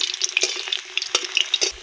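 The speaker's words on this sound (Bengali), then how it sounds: "আলুগুলো আমি লাল লাল করে ভালো করে ভেজে নেব।" Potatoes fried in oil in a rustic village kitchen, a close, lively crackle and sizzle with small spattering pops and stirring scrapes throughout.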